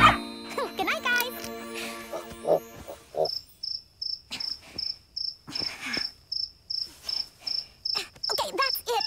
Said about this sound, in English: I can't sleep with all that chirping